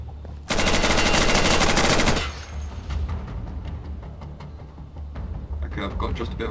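Automatic gunfire in the video game Insurgency, a loud sustained burst of rapid shots followed by scattered distant shots and booms, with players talking over it.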